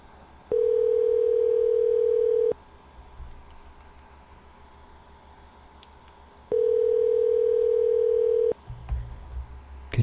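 Two long, steady telephone ringback tones on an outgoing call, each lasting about two seconds with a gap between them, loud and clear over faint line hiss.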